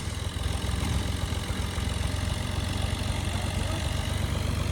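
A steady, rumbling motorbike engine idles close by, low and continuous with a slight uneven throb, no voices.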